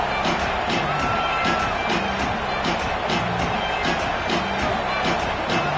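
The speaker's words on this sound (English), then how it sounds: "The fans are riled up" A stadium crowd roars steadily at a college football game in a video game, a dense, loud and unbroken wash of cheering with faint rhythmic thumps underneath.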